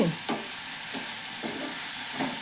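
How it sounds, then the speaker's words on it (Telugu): A spatula scrapes through ridge gourd curry with chopped coriander in a frying pan, sounding as about four evenly spaced strokes over a steady, close sizzle. "కొత్తిమీర కూడా వేసేస్తున్నాను వేసేసి ఒక తిప్పి తిప్పి వేసుకుని"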